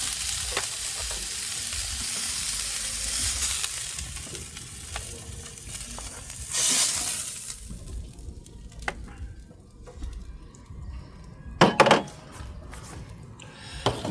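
Steak searing on a Ninja Woodfire grill, giving a steady close sizzle and hiss throughout, with a few brief knocks and clatters near the end.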